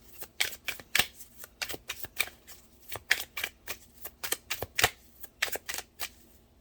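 Tarot cards being shuffled and drawn by hand, a quick rhythmic run of crisp close-up riffling snaps and flicks, each burst sharp and distinct, with no talking.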